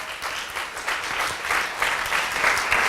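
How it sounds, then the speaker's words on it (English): Applause from an audience at a Wednesday-morning live-streamed startup meetup, a dense, steady round of clapping that swells slightly and carries on for several seconds without talk. "big round of applause"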